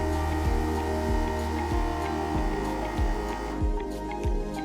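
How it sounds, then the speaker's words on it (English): A Pac Food VS603 vacuum sealer runs with a steady electric hum and a low rhythmic pulsing that repeats roughly every half second, close by. "After the vacuum, the machine will automatically switch to sealing mode."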